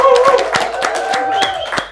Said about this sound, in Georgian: ტაში შევიდეთ რა